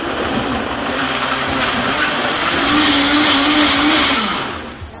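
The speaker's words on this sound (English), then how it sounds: "You put everything in the blender and what do we say?" A blender whirs through a fiber-rich colon-cleansing smoothie, a loud continuous motor roar that swells in pitch midway and then winds down at the end, with no talking.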